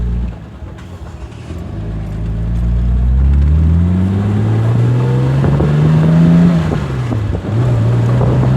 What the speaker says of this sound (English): Ray, I'm driving, Chief. I'm driving